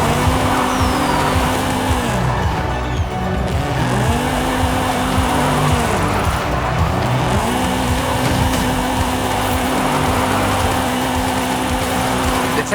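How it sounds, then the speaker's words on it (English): A car drifting down a runway in the Forza Horizon 5 video game, engine droning loudly while tires squeal in repeated long sweeping skids, each squeal rising and falling over a steady motor roar. "So just drift it down the runway."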